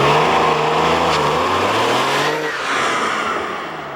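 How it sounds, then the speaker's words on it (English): Porsche 911 Turbo accelerating hard on the Mosport race track, a loud, close engine roar with rising and shifting revs and a gear change midway, sustained throughout. "we're now going out on the Mosport track to experience a Porsche the only way it can be experienced"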